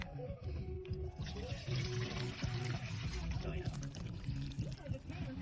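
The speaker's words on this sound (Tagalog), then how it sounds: "So that means I got good flow for the shower." Water pours and splashes steadily from a shower head, a continuous close rushing flow with a person talking over it.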